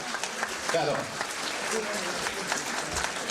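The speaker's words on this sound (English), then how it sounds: "A nice round of applause again for all these people." Audience applause at a high school reunion, a steady patter of clapping from a crowd that carries on for a few seconds, with voices mixed faintly beneath it.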